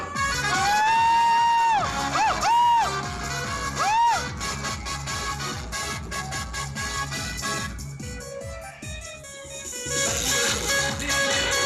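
A school audience cheers and applauds loudly for two student guests, a class 10 boy and a class 12 girl, at a teachers' comedy skit; the crowd noise runs throughout with tonal, music-like sounds layered over it.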